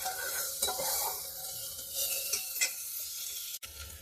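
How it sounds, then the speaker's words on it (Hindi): Garlic and onion fry lightly in a pan for a jackfruit curry, a steady sizzle broken by scraping stirs and a sharp clink of a utensil near the end. "लहसुन और इसी के साथ ही प्याज डाल देते हैं।"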